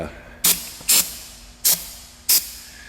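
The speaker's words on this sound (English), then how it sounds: "try to spray less silicone spray" Four short, sharp hissing bursts of silicone aerosol spray, each lasting a fraction of a second with brief pauses between them, close and fairly loud, while replacing a starter on a 2006 Honda Odyssey.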